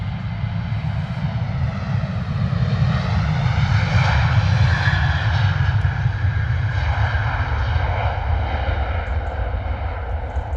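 A Ryanair airliner rolls down the runway on takeoff at London Stansted Airport, its jet engines making a loud, sustained, steady roar with a slowly shifting whine, heard from outdoors without talk.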